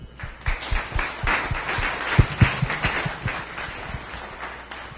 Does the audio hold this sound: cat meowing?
no